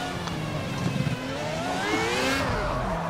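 A race car engine in the video game Project Cars revs and accelerates hard, its whining pitch climbing steadily and then cutting off. It plays loud and continuous, with no talk.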